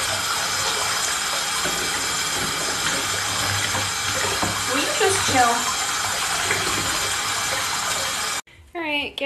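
A pet is bathed under running water, a steady gush filling the whole stretch with splashing and scrubbing close by, cutting out abruptly near the end where a brief voice is heard.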